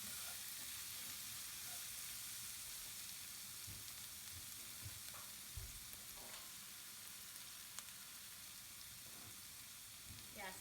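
Onions and garlic frying on medium heat for an eggplant baingan bharta, a faint, even, continuous sizzle with a few soft stirring taps and no voices.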